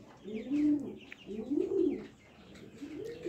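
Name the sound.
Jacobin pigeons cooing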